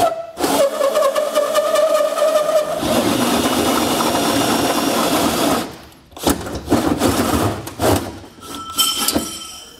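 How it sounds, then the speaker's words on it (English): A drill with a hole saw cuts through the aluminum bed floor of a 2022 Ford truck for a B and W Turnoverball gooseneck hitch, whining and grinding loudly and close, stopping briefly, then restarting in short bursts. "we'll go ahead and get this drilled out"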